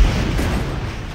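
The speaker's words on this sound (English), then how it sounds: "There's explosions everywhere" A heavy boom from explosions in the video game World in Conflict, a loud low rumbling blast that fades over about a second.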